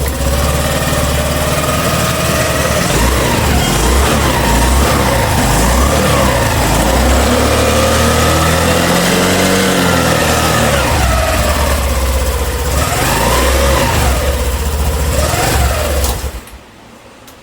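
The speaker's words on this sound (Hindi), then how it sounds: "फाइनली हम लोगों का जो गाड़ी है, गाड़ी स्टार्ट हो चुका है" A Honda Dio BS6 scooter engine runs after starting, a loud, steady mid-pitched hum with several rising revs before it cuts off near the end.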